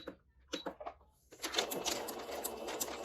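A home sewing machine stitches small stitches around a curve in fabric. After a second of quiet with a few faint taps, it starts a rapid, even, close mechanical rattle that runs to the end.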